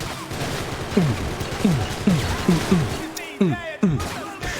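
Rapid gunfire from a held trigger in the Max Payne 3 video game: around seven loud, close, sharp shots in an uneven rhythm, with a voice briefly audible near the end.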